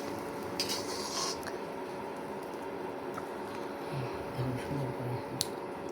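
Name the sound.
lifting fried egg bread pieces from the pan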